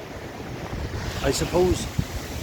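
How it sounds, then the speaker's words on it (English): Ocean waves wash on a shore under steady wind, a soft continuous surf roar behind someone speaking briefly. "I don't get to be beside the waves much these days."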